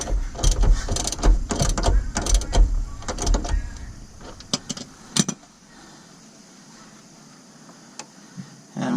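A ratchet tightens a sway bar bushing nut on a 2000 Ford F150, clicking in quick, close bursts of rapid ratcheting with short pauses, then falling mostly quiet apart from a few isolated clicks.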